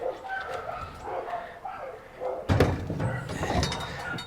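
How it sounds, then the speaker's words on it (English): A dog barks repeatedly nearby in short, uneven bursts, with a louder cluster of yips and barks partway through over faint background noise. "You guys hear all that barking?"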